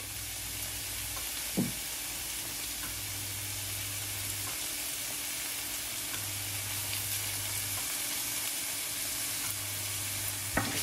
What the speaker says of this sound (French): je vais rallumer un peu le feu pour reprendre le rissolement